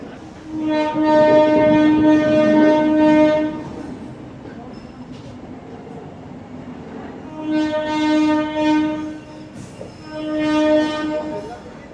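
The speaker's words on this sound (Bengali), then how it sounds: "একদম কারেক্ট টাইমে আমাদের শ্রী জগন্নাথ এক্সপ্রেস রওনা দিয়ে দিয়েছে পুরীর দিকে।" Sri Jagannath Express pulling out toward Puri, its loud horn sounding in three long blasts separated by rumbling pauses of the moving train.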